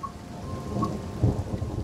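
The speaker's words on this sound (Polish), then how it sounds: "słyszę, że deszcz zaczął padać" Steady rain with rolling thunder rumbling low in a Train Sim World 3 storm on the Southeastern High Speed Extended route, a constant wash of drops under a heavier swell near the end.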